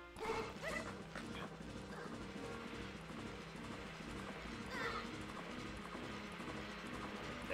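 Horse hooves clip-clopping in the video game Majora's Mask, a continuous fairly quiet rhythmic gallop with whinnying and dog-like yips, mixed under game music and effects.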